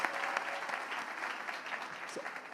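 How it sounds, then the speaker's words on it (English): Audience applause fills an awards ceremony hall, a steady dense wash of many hands clapping at moderate level throughout, with no voices over it. "Let's give them all a round of applause"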